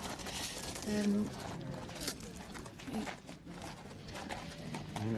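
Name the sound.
horse hooves trotting at horse inspection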